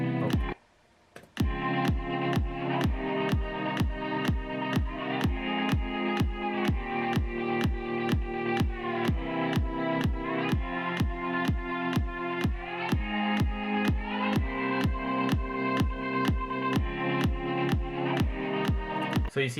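A looping beat in FL Studio with Gross Beat sidechain pumping, so the music ducks rhythmically under each kick, giving a steady pulsing swell across the whole stretch, loud and without voices.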